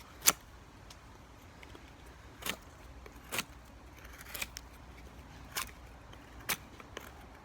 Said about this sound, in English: Let's go ahead and cut down into this thing with some real hard push cuts.